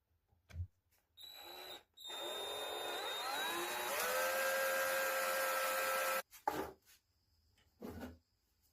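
A power drill whines in steady bursts, its pitch rising as a twist bit grinds into a broken hard steel screw, with brief pauses and short clunks between runs.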